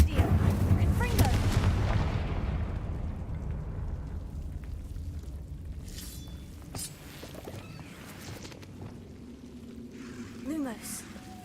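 Incendio and Confringo spells cast in Hogwarts Legacy, booming fiery blasts loud at the start that fade into a low rumbling tail, followed by quieter magical chimes and whooshes.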